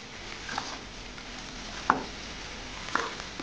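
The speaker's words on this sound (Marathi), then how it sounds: "मूग आपण आपल्या मसाल्यांमध्ये छान मिक्स करून घेणार आहोत." Sprouted green moong mixed with spices is stirred in a pan over low to medium heat, giving a soft, low sizzle with a few light spoon scrapes and taps.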